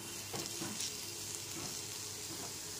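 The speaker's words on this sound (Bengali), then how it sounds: "গ্যাসের ফ্লেমটা এখানে লো টু মিডিয়ামে রেখে সবজিগুলো ভেজে নিচ্ছি।" Vegetables fry in a pan over a low-medium gas flame for a Bengali poha pulao, giving a steady, close sizzling hiss with a few soft stirring scrapes and no talking.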